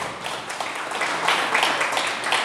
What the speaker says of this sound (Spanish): Amén, denle un aplauso fuerte